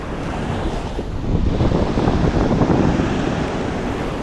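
Sea waves of a rising tide wash in with a low, rolling rumble that swells in the middle, mixed with gusty wind buffeting the microphone.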